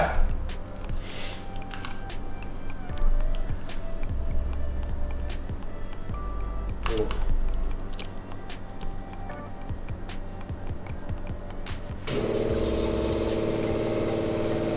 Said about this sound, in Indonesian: Dari nggak ada semprotan, gue bikin ada semprotannya nih.